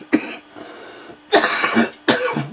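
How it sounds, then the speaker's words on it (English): Three harsh coughs close up, one short then two longer, rough bursts separated by brief pauses. "you have to excuse the cough."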